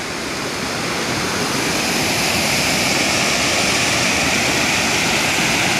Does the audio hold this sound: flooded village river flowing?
yes